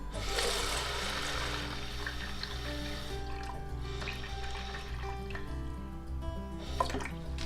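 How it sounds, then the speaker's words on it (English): Cold tap water runs steadily from a faucet into a measuring vessel while preparing film developer dilution, a continuous close splashing fill with faint dripping toward the end. "So we measure first 300 milliliters of water. You can again use cold tap water."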